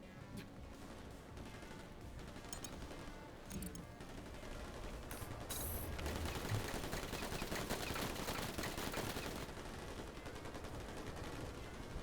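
Dense, continuous gunfire from the video game New Tales From The Borderlands, with sustained automatic bursts and sharp shots layered into a loud, chaotic firefight that runs without a break.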